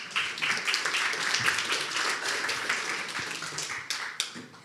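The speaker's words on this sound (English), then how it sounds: "One more applause, please." Audience applause at a cybersecurity meetup: a dense, steady wash of many hands clapping that runs for several seconds and fades a little toward the end, with no voices over it.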